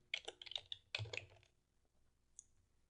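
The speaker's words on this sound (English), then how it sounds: "I can type in their name" Typing on a computer keyboard, a quick close run of soft key clicks lasting about a second and a half, then a few faint isolated taps in near silence.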